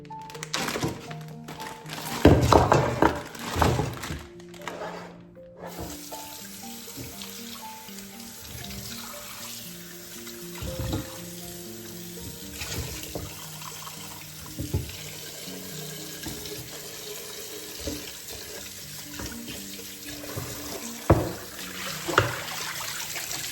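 Water runs from a tap into a sink, splashing loudly at first, then flowing more quietly alongside occasional knocks and clunks.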